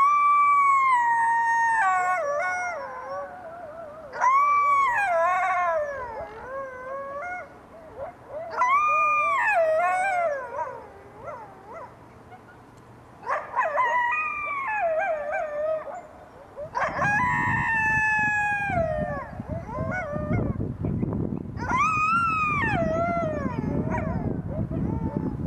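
Wild coyotes in San Francisco, a female and a male, howl in a series of rising and falling wavering calls with yips, several voices overlapping at moderate distance, with rumbling background noise joining later.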